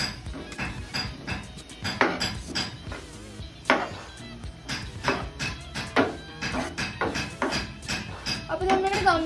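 Metal spoons clink and scrape against a cooking pot while cheese pasta is being made, a string of sharp irregular taps and knocks close by, with someone speaking in between.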